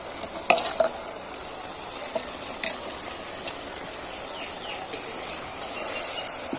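Washed masoor lentils fry with winter vegetables in a pan for khichuri, a low, steady sizzle with a few sharp scraping and stirring clicks, heard alone and at moderate volume.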